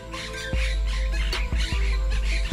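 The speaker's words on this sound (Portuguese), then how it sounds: "O periquito de papo branco se camufla entre as folhas, mas a gritaria não deixa dúvidas." A white-throated parakeet in the Pantanal squawks repeatedly at close range, harsh loud calls in quick succession over a dense buzz of wild surroundings.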